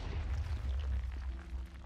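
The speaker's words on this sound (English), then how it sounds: "so it's going to be a big explosion" A big explosion set off in the TerrafirmaCraft mod of Minecraft: a loud, sustained, deep rumbling boom that fills the whole moment without any talk.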